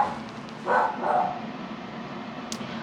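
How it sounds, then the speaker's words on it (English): A pet dog barks indoors in a home, two short close barks in quick succession followed by quiet room tone and a faint high squeak near the end. "my dog needs to stop. He needs to stop barking."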